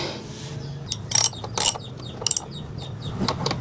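Bolts on a Yamaha NMAX Techmax 155 brake system being tightened by hand, close metallic ratcheting clicks coming in short bursts with quiet pauses between them.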